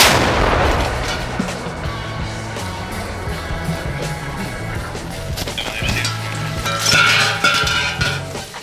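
A single heavy artillery blast booms at the start, followed by ringing metallic clinks and rattling as the echo fades away.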